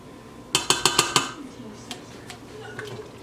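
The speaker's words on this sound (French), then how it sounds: "Je vais prendre une cuillère de margarine." A metal spoon scooping margarine from a container clinks five times in quick succession, then gives a few softer scrapes and taps close by.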